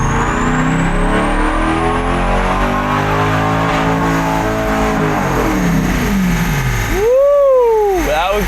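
Chevrolet Corvette C8 on a dyno, engine roaring loud and steady as it pulls through first and second gear in manual mode, with rising harmonics and a sharp upshift surge near the end.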